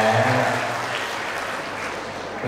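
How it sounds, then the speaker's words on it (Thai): Guests at a Buddhist ordination ceremony at a temple give a burst of sustained applause, fairly loud and dense, tapering slightly toward the end, with a voice audible briefly at the start. "ถ้าสวยขอเสียงปรบมือให้กันหน่อยครับ"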